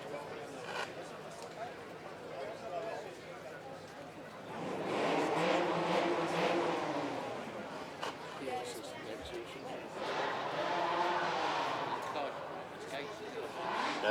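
A GT8 supercar circulates the track at the Beaulieu Supercar Weekend, its engine swelling twice as it passes at moderate distance before fading, with people talking in the background.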